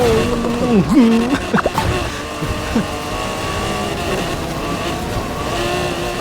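A convertible BMW M4 rally-tuned in Need for Speed Heat races with a sustained engine drone and shifting pitch, loud and close, while a voice speaks briefly over the opening seconds.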